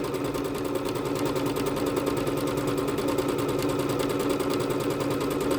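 A Bernette B-77 sewing machine runs stitch #28, a steady, fast, even mechanical whir with rapid rhythmic needle ticking, close and continuous without pause or talk.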